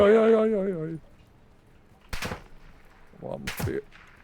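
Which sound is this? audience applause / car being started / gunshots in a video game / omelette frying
gunshots in a video game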